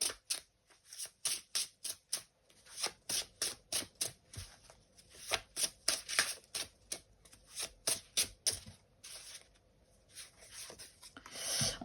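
Tarot cards being shuffled over and over, a quick rhythmic run of papery riffles and slaps, close and clear with no one speaking.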